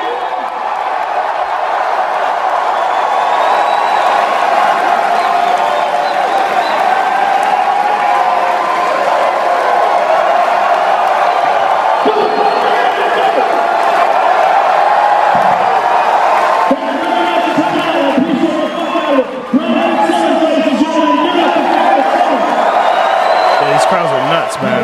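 Large crowd at a stage show in San Francisco roars and cheers continuously, a dense sustained wash of voices with whoops and some clapping, loud and close throughout.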